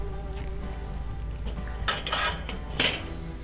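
Metal grill grate set back onto a smoker, a few sharp metallic clanks and scrapes in quick succession over a low background hum.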